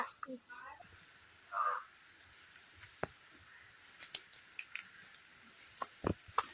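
A voice briefly imitates a crow's caw, faint and quiet, followed by scattered small ticks and taps.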